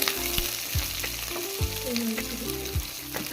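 Curry leaves and onion frying in a pan for a spicy pigeon pea pod kuzhambu, a steady close sizzle with repeated spoon strokes scraping and knocking against the pan, no speech.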